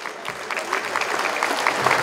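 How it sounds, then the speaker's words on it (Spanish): Crowd applause at the inauguration of a regional Mixe sports championship, a steady wash of clapping from a large audience, moderately loud and continuous for the whole stretch. "Los aplausos"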